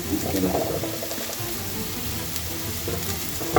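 Sliced onions sizzling in hot oil in a pan for a chicken roll, a dense continuous frying hiss with a few soft knocks, close and steady, no voices.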